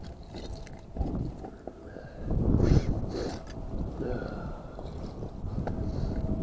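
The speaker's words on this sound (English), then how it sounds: "Here comes the wind again." Wind blowing outdoors near water while setting beaver lodge traps, gusting and buffeting the microphone in swelling rushes, with people talking at times.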